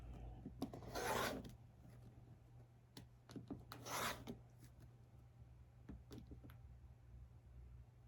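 Fabric selvage being cut for a quilting project: two longer rasping cuts and several short snips and rubs, faint and close, with no talk.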